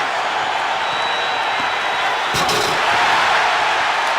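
An arena crowd at a basketball slam dunk contest roars and cheers loudly and continuously, swelling slightly toward the end, with a sharp thump partway through.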